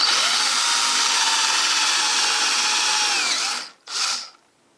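A power drill with a Forstner bit bores a bolt hole into wood, a loud steady whine held for several seconds up close before the motor cuts out, then a brief second burst and silence.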